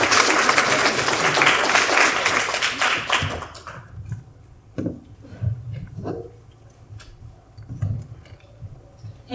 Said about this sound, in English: applause for McCloskey and Nicole Quinn